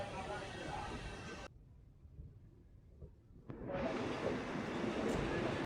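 A Guntakal–Tirupati passenger train pulls into Dharmavaram Junction: a loud, steady rumble cuts out, a quieter stretch follows, then the heavy roar surges back close by, with no clear talk.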